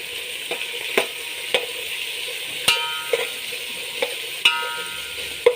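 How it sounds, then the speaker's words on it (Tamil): Onions and green chillies sauté in hot groundnut oil, a moderate sizzle punctuated by sharp metallic clanks of a spatula against the pan at irregular intervals, close and without speech. "இதில் ஒரு 4 பெரிய வெங்காயம், ஒரு 3 பச்சை மிளகாய் போட்டிருக்கேன். நல்லா வதக்கி விட்டுக்கலாம்."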